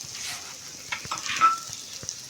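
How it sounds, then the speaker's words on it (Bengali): Three chopped green chillies are stirred into fried onions in a pan, giving a soft sizzle broken by a few sharp clinks and scrapes of a spatula, close and with no talk. "কাঁচা লঙ্কাটা দিয়ে একটু নেড়ে ছেড়ে দেব।"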